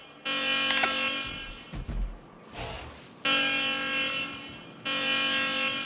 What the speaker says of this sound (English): let's activate this alarm and see what happens